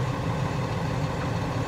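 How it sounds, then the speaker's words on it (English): The refrigeration unit on a 2018 Freightliner M2 refrigerated van truck drones in a steady, loud mechanical hum with no pauses or change in pitch. "looks like the reefer unit came alive here"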